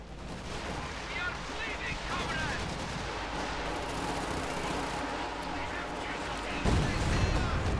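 Machine gun fire and other gunfire in the Company of Heroes 2 strategy game, a dense, continuous crackle of distant shots and explosions, with a louder burst near the end.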